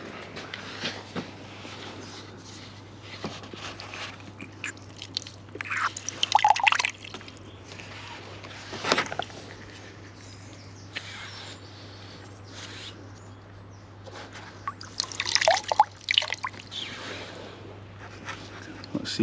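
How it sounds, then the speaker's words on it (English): Water flushed by syringe through the roof drain of a Range Rover L405 trickles and drips in irregular bursts, moderately close, over a steady low hum with faint background voices. "What you want to do is get a syringe with water in it and flush that."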